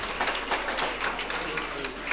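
Sustained, even applause from an audience at a live Swiss Ländler folk music evening in the Stadtkeller, a steady wash of many hands clapping at moderate level with no pauses.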